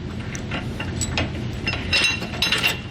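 Metal clinks and ratcheting knocks of a TorkLift SuperHitch Magnum trailer hitch bracket being lifted into place on a 2021 truck frame, close and fairly loud, with irregular clanks and scrapes throughout.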